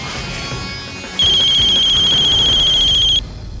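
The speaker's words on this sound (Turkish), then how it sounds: "Aç şu telefonu, aç şunu, aç şu telefonu." An electronic phone ringtone chimes loudly for about two seconds, a steady high-pitched tone that cuts off abruptly, with faint background noise around it.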